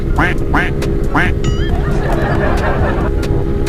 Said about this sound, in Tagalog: Ayun na, nakuha natin mga itik.